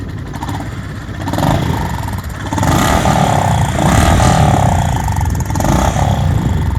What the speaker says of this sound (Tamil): ஸோ இதை நான் ஸ்டார்ட் பண்ணி இதோட எக்ஸாஸ்ட் நோட் எப்படி இருக்குது அப்படின்னு கேட்கலாம்.